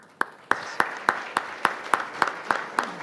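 Slow, evenly spaced claps ring out one after another, about ten sharp hits in steady rhythm, sounding like a single person or a small audience clapping for a speaker at a budget conference.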